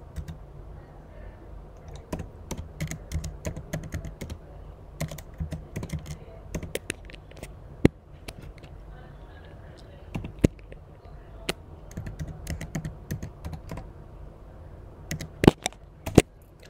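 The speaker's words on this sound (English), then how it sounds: "now we're going to be typing the main thing for this program" Python code being typed on a computer keyboard, with rapid irregular key clicks and occasional louder strikes, close and steady throughout, with no talking.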